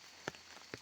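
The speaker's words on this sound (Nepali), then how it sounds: "पानी पनि आइहाल्यो फेरि" Rain begins falling in a forest near a waterfall picnic spot, a faint steady patter with two sharper nearby drops striking a surface.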